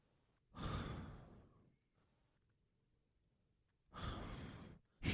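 A person imitates heavy mouth breathing while asleep, with two long, breathy sighing exhalations separated by a quiet pause, close and fairly soft, with no other talk.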